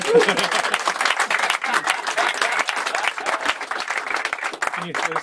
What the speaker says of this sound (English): Round of applause for John Leckie, please.